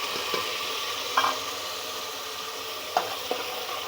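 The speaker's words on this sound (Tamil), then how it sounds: "வெங்காயம் போட்டுக்கலாம் வெங்காயம் நல்லா வதங்கணும்" Steady frying sizzle of onions in a pan, with a few soft clinks of a utensil stirring, close and moderately quiet.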